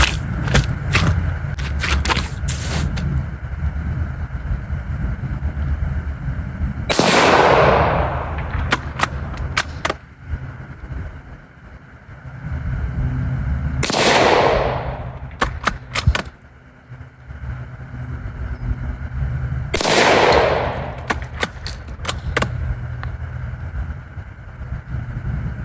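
Three loud gunshots from a Savage Model 4M Deluxe rifle, spaced several seconds apart, each a sharp crack followed by a brief decay, with clicks and handling noises of the action between shots.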